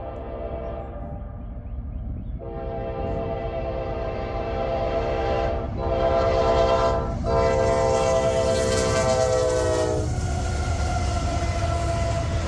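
Westbound Norfolk Southern freight train passing near Cohen Road, its horn sounding in several long blasts over a loud, continuous rumble and clatter of rolling cars.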